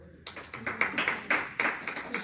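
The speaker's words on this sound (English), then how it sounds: "So definitely give her another round of applause, please." A small audience gives a round of applause after a conversation with an author. The claps rise in uneven, rhythmic bursts, close and moderately loud.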